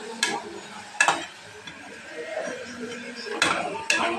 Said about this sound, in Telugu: ఆనియన్స్ బాగా ఎర్రగా వచ్చే వరకు వేపుతానండి